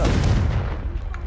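A Confringo fire spell bursts in Hogwarts Legacy with a loud, low booming blast that decays into a rumbling tail over about a second.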